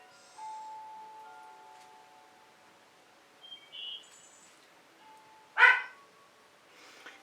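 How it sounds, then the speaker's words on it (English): Dogs bark indoors in the background of a quiet room, with one sharp bark standing out among faint tones and soft thumps. "so you can hear my dogs barking in the background."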